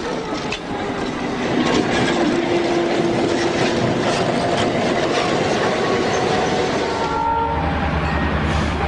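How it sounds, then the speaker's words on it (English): An EMD SD9 diesel locomotive, a 1,750-horsepower six-motor unit on a Southern Pacific branch line in western Oregon, rumbles past loudly with clattering wheels and rail noise, and a horn sounds briefly near the end. "EMD SD9, a 1750 horsepower 6-motor diesel with more than 30 years of service to its credit"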